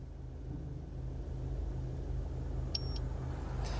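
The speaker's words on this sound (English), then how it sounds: "you simply just pull the toggle wheel back to you for 5 seconds until it" Two short, high electronic beeps from a Geyiren C500 head-up display's speed alarm ring out over a steady low engine rumble inside a moving car.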